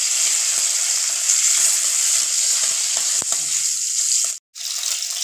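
Green chili hits hot mustard oil in a kadai, giving a steady, loud, hissing sizzle with a few crackles and pops, broken by a brief moment of silence near the end before the frying resumes.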